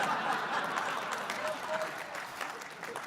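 Audience applause at a mentalist's corporate stage show, a moderate wash of clapping with some chuckles and murmuring voices mixed in.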